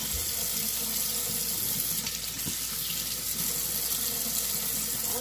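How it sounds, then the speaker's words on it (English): Tap water runs steadily into a kitchen sink while raw stew beef is rinsed for sancocho, a continuous close splashing flow. "Just rinse out the meat. Get all that excess blood."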